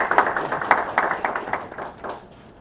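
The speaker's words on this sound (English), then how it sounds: "I would like to commend them, so we should clap." Brief round of applause from an audience at a financial primary dealer awards ceremony in Uganda, a moderate patter of many hands that fades out over a couple of seconds.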